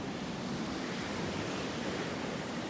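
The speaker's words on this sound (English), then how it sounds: "listening to the sounds of the ocean, of the Gulf" Gulf of Mexico surf washing onto a beach in North Naples, Florida, a steady, close broadband roar of breaking waves with no voices, constant in level throughout.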